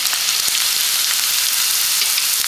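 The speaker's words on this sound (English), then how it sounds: "and fry for 1 minute." Chopped onion and spring onion frying in a pan for a vegetable clear soup, a loud, close, continuous hissing sizzle with faint crackles and no voices.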